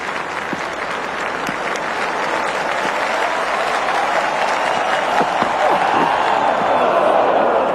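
A large crowd at a New Zealand vs Windies T20 cricket match claps and cheers steadily throughout, loud and continuous, with commentary voices partly under the applause.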